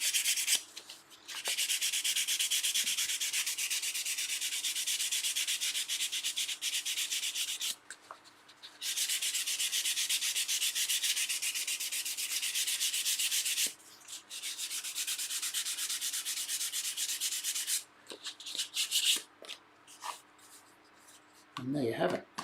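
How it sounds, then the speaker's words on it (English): Sandpaper rubs back and forth along the edge of a small wooden dovetail box in long, steady strokes with a few short pauses between passes, close and fairly loud. "I'm just going to get sandpaper just to take off some of the untidy looking little bits"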